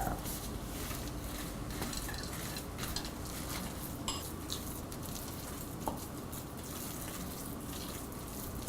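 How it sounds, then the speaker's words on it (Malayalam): Cream cheese and pecans stirred into soft cooked sweet potato in a pan for a sweet potato casserole, with steady close mixing, scraping and occasional utensil clinks against cookware. "ഫ്ലെയിം ലോയിൽ വച്ചതിന് ശേഷം ഇതിലോട്ട് നമ്മൾ എടുത്തു വച്ചിരിക്കുന്ന ക്രീം ചീസും പിക്കാൺസും ഇട്ട് നന്നായിട്ട് മിക്സ് ചെയ്യുക."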